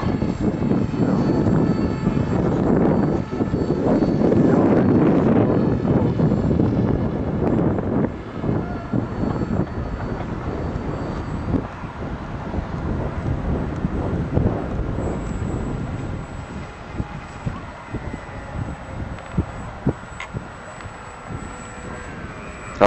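An AXN Floater Jet RC foam plane flies overhead, its electric motor a steady whir that is loud and close at first, then fades into the distance amid gusty wind noise on the microphone.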